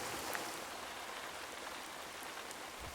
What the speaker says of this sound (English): we'd be able to hear the rain hitting the roof above.